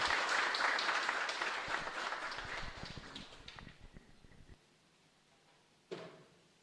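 A congregation applauds at a live Mass in a chapel in Luque, with dense clapping that fades over about four seconds and then stops, followed by a short isolated thump near the end.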